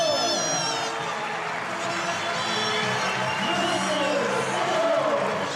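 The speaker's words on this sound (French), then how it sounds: "Un tonnerre d'applaudissements pour Monsieur Stéphano" A crowd of about 2000 under a circus tent applauds a clown in a dense, continuous roar of clapping and cheering that stays loud throughout.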